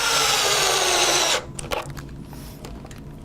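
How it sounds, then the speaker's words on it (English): A power drill drives screws into a pontoon, a loud steady whir lasting over a second that stops abruptly, followed by quieter clicks and handling noises close by. "So we tighten up the center 3 screws"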